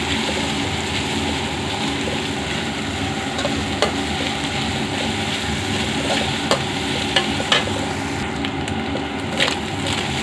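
Egg noodles stir-fried with fried eggs in a pan, a steady loud sizzle with scraping and clacking of a utensil against the pan, sharp knocks recurring irregularly throughout.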